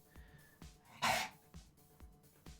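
One sharp sneeze bursts out close by, surrounded by quiet stretches with a few soft clicks and taps from nearby desk activity.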